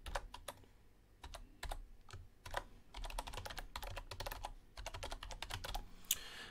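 Rapid bursts of keystrokes on a computer keyboard while entering a subscriber into a Mailchimp survey form, with irregular clusters of clicks and short pauses, close and fairly quiet with no talking.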